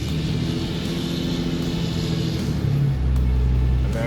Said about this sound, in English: Am I just slowly easing onto the gas when I count to 3?